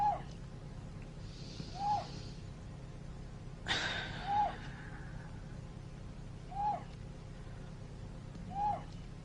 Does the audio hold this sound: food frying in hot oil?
no